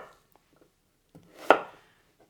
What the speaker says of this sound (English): I'm just going to cut this onion nice and coarse